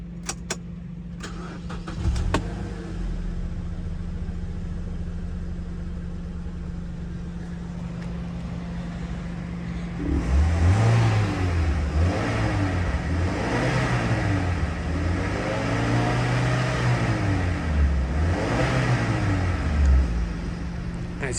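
A 2013 Mazda MX-5 with the 2.0 engine is started after a few key jangles, then idles with a steady low hum and is revved repeatedly in a rhythmic series of rising and falling throttle blips.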